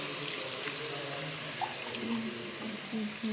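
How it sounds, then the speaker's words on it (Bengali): Water poured into a pan of thick potato and paneer curry, a continuous close splashing, gurgling pour with small clinks of the pan, fairly quiet. "সেখানে জলটা দিয়ে দিলাম"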